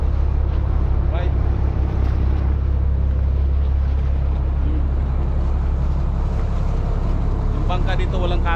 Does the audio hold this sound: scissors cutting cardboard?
no